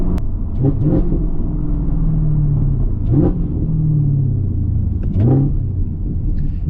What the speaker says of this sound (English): these downshifts are never gonna get old in this car